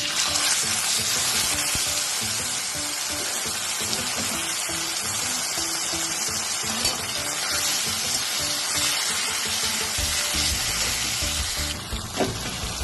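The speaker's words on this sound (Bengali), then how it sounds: "তেলটা গরম হয়ে গেছে, এবার আমি সব ফোড়নগুলো একসঙ্গে দিয়ে দিলাম।" Whole spices sizzle loudly in hot oil in a pan for a fish-head and taro-leaf dish, a dense, steady crackling hiss that runs close and unbroken throughout, with no talking.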